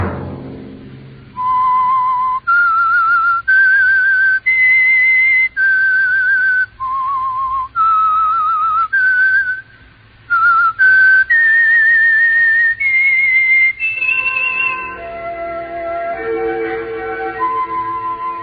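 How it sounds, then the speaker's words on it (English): A whistled theme signal for the radio program The Whistler: a lone human whistler carries a wavering, eerie melody in long held notes with brief gaps, then a lower orchestral passage takes over at the close. "Let that whistle be your signal for the Signal Oil program, The Whistler"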